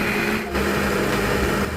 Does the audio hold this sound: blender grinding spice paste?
yes